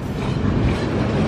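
Indonesian CC 206 locomotive hauling a generator car and passenger cars through Bandung station, a steady loud rumble with rail clatter filling the whole moment, no voices.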